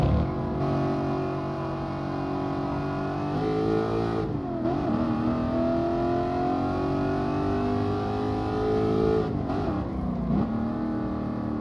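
A BMW race car engine in Gran Turismo Sport on PS4 Pro drones steadily at high revs, pitch rising and dipping through gear shifts with brief drops, loud and continuous with no talk.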